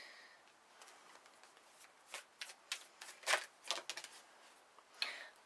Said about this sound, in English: we're shuffling for the 6th position up top